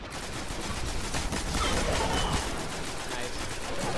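Gunfire in the Destiny video game, a dense, continuous rattle of rapid shots at steady loudness for the whole stretch, with no pause between bursts.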